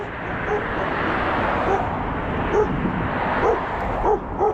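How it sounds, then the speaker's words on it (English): A dog barks several times in short yips at moderate distance during a sidewalk walk, over steady outdoor background noise. "Another dog over here."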